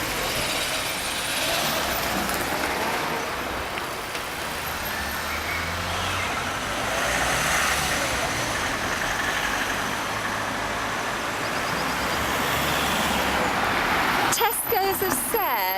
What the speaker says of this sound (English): Another car trying to turn in.